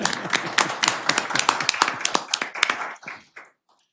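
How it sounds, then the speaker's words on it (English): Attendees at a county board of commissioners meeting clap together, a quick burst of close, crisp hand claps that thins out and stops near the end. "we should clap"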